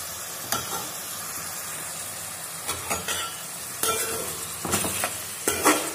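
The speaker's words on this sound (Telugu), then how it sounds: "లిడ్ పెట్టుకొని ఒక 5 మినిట్స్ ఫ్రై కానివ్వాలి. కర్రీని ఒకసారి కలుపుకుందాం." Spicy chicken curry sizzles steadily in a pan while a spoon stirs it, scraping in short irregular strokes close by over the continuous frying hiss.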